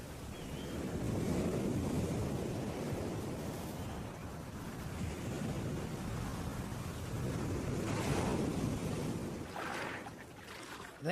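Ocean waves wash onto a beach at the water's edge, a broad continuous roar of surf swelling and easing, with wind buffeting the microphone.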